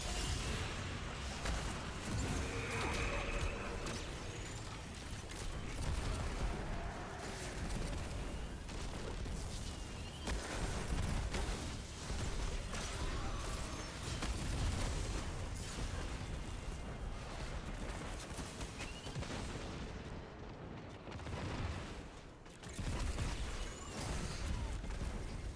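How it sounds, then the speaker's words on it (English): Finality's Auger set up in turret mode in Destiny 2: a long stretch of repeated booming shots and bursts rolls on continuously, thick and loud, with a short lull near the end before firing resumes. "So now we're gonna try turret mode of Finality's Auger"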